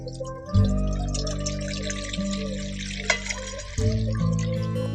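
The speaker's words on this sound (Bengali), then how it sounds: "ওই কড়ার মধ্যে জল দিয়ে দিচ্ছি" Water poured from a vessel into a wok on a lit stove, a near, continuous splashing, trickling pour with a resonant metallic ring that briefly drops out and then resumes, no voices.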